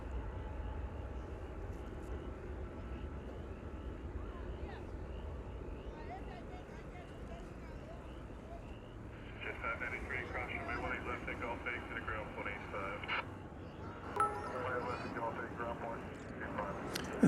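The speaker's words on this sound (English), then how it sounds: "This is American Flight 1497 arriving from Bozeman, Montana, 737-800." American Airlines Boeing 737-800 arriving at DFW airport, its jet engines making a steady, broad roar that swells after the midpoint, with someone talking over it.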